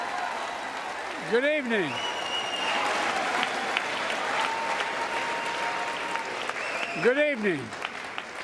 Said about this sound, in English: Oh, lots of applause.